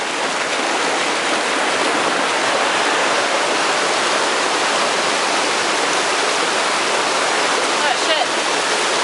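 Waterfall beside a hiking trail on Harding Truck Trail, a dense, steady roar of rushing water filling the whole clip, loud and close, with no talk over it.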